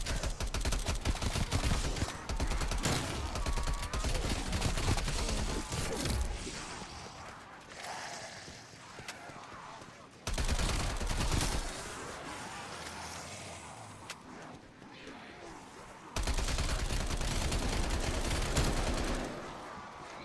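Gunfire in Call of Duty: Cold War Zombies: loud, dense bursts of rapid shooting, dense and continuous in three stretches separated by quieter gaps of rumbling game ambience.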